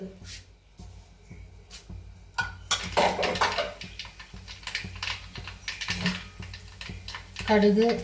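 Mustard seeds crackle and spit in hot coconut oil in a pan while a spicy chicken masala is started, giving rapid, irregular sharp pops that grow busier and louder toward the end, with a little faint voice in the background.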